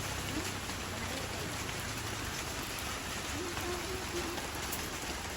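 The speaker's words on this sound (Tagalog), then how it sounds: "Grabe ang lakas ng ulan." Heavy rain pours in a dense, unbroken hiss of drops on surfaces, steady and even throughout with no pauses.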